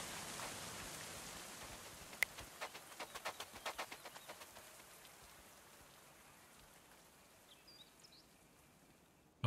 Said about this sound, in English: Oh, look at all that rain.